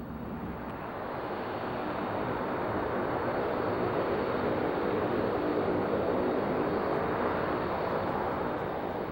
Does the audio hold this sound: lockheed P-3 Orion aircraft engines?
yes